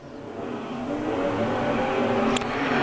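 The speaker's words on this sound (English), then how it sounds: "Eight laps of heat race action underway here for your IMCA Modifieds" IMCA Modified race cars roaring through a heat race at Canyon Speedway in Arizona, a loud sustained engine drone building in volume as the pack passes close by.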